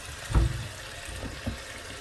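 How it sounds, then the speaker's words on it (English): Kitchen tap water running into a bowl to rinse peeled green bananas, a soft gurgling splash with a few brief louder pours, faint and close, with no voices. "just catch some water to wash them off properly"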